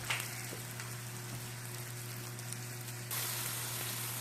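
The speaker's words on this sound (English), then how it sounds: "Now we just gotta wait for those pork chops to cook." Pork chops frying in a pan, a constant soft sizzle and crackle with a low steady hum underneath, faint and continuous throughout.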